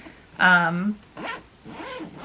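A backpack pocket zipper is pulled open in a few short rasping strokes, close and clear, with someone talking before and after.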